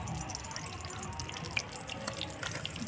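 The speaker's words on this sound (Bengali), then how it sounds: "তেজপাতা ফোড়ন দিয়ে দেবো।" Bay leaves dropped into a little hot white oil sizzle with a faint, fine crackle and scattered tiny pops, steady and quiet throughout.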